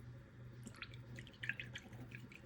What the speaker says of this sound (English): Rinse off your brush and dry that.